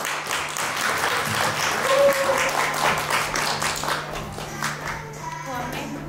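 Applause for first-graders at a Bulgarian school's letters celebration, a sustained round of group clapping from a nearby audience that swells and then tapers off, with a few voices under it.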